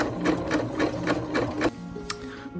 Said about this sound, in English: you could just use your zigzag on your machine, zigzag stitch, and do all the edges with it